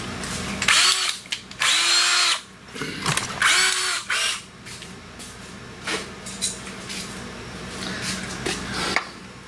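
A 21/64 drill bit bores through metal on a 2011 Chrysler 200 in bursts of loud, whining drilling, with stops, restarts and ratcheting clicks in between, close up and with no talk.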